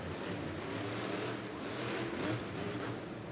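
The Gravedigger monster truck's big engine roars steadily in an arena during a sky wheelie, a continuous loud mid-pitched drone that swells slightly, heard from a distance through crowd noise.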